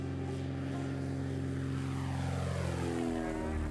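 A small propeller plane flies over eastern Kentucky mountains, its engine droning steadily with a shifting pitch as it passes close, loud and unbroken with no talk.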